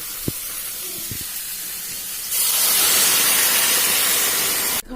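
Hot water poured into a pan of frying potato and soybean curry sets off a sudden loud, steady sizzling hiss that holds for a few seconds before cutting off.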